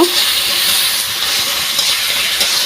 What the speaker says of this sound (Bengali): পেঁয়াজ মরিচটা একটু অল্প ভেজে নিব